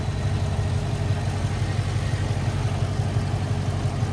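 A 5.7-liter V8 in a 2020 Dodge Charger R/T idles steadily under the open hood, with a low, even rumble that holds level throughout and no voices.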